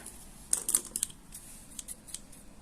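Several quick, crisp snips and rustles of scissors cutting through plastic packaging, close by, in short irregular bursts with quiet pauses between.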